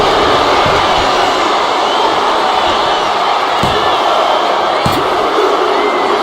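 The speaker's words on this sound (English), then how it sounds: "a live crowd doesn't get any hotter than this" Loud, continuous roar of an arena crowd cheering in the WWE 2K25 wrestling video game, steady throughout with a few sharp slam-like hits.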